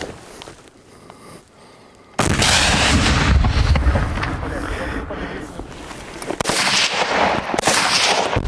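Loud gunshots crack out after a quiet start, a sustained burst of blasts followed by another volley, close and booming.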